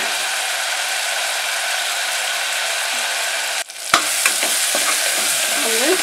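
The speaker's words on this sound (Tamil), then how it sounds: "தக்காளியெல்லாம் நல்லா வதக்கிக்கணும்." Tomatoes and onions sautéing in oil for a pea and potato kurma, a dense continuous sizzle close by, then rhythmic scraping and stirring strokes of a spoon in the pan during the second half.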